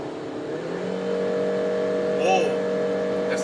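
A 2021 Peugeot 3008 engine revs up on a downshift, a loud steady drone that rises in pitch and holds near the end, heard from inside the car with faint talk.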